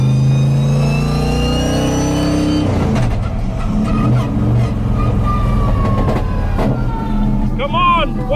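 A 700+ HP hot rod, a flying brick build, roars loud and close as its engine revs and climbs through gears while driving, with harsh mechanical clatter and a raspy, fluctuating exhaust note throughout.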